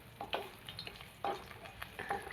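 Dried Bombay duck fish frying in oil for an eggplant curry, giving a low, steady sizzle with a few brief stirring scrapes and pops, fairly faint and close, with no voices.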